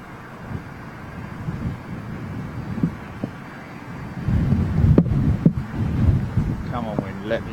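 Wind at London Heathrow airport, a steady rushing buffet on the microphone that gusts louder partway through, with a voice speaking briefly over it.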